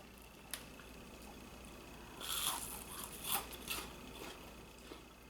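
A few crisp crunchy bites of fried onion rings and chewing sounds, close up, over a faint steady background hum.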